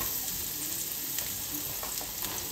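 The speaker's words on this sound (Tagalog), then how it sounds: "Sa pinagprituhan po ng salmon, dito po tayo mag-iisa ng bawang" Garlic sautés in the oil left from frying salmon belly, a dense steady sizzle with small crackles and a few stirring clicks, close up and with no talking.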